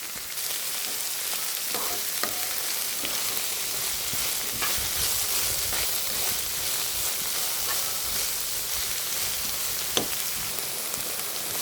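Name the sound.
okra and onions sautéing in a pan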